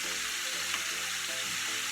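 Breaded Jamaican BBQ chicken wings frying in oil make a steady, close, even sizzle with faint crackles throughout and no voices.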